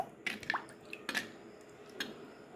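Chicken pani puri filling being mixed with chaat masala and ground cumin, giving soft wet squishing and sticky stirring noises in a few short bursts, close and fairly quiet with no talking.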